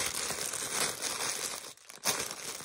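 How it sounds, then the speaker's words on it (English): A very crinkly plastic bag around a plushie being handled up close, steady rustling and crackling throughout with a brief quieter pause near the end. "the next thing in here is a plushie in a very crinkly bag"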